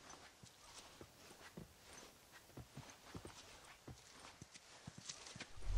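Horse hooves in the video game The Last of Us, a series of close, uneven clip-clop steps over a faint background, growing slightly louder toward the end.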